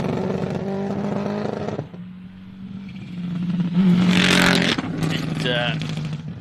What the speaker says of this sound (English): It sounds like that car's on 3 cylinders, potentially. Does not sound very healthy.